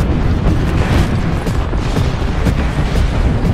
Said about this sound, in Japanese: 今自分の空爆食らうので忙しい。